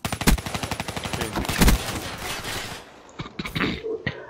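Rapid automatic gunfire from a Black Ops 3 multiplayer match, a fast rattling stream of shots with a couple of heavier blasts, fading briefly before a few scattered shots at the end.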